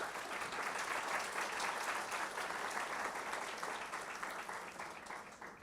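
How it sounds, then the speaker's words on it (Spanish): A room of people gives warm applause to welcome a speaker at a panel discussion. The clapping is dense and sustained, then thins slightly toward the end. "un aplauso para poder recibirla"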